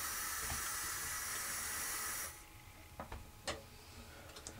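A bathroom sink faucet runs as a steady broadband water hiss for about two seconds, then cuts off, leaving a quieter room with a few faint clicks and drips.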